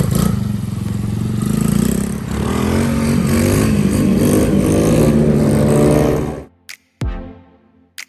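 Small Coolster 110cc dirt bike engine running steadily and loud on a test ride after carburetor, spark plug and tire repair, with rattling mechanical clatter, then cutting out abruptly with a short burst near the end.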